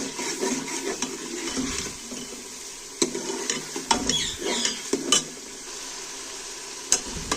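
Stirring and frying in mustard oil: a steady sizzle is broken by sharp scrapes and clinks of a spoon against the pan, coming in irregular bursts, close and fairly loud, with no talking.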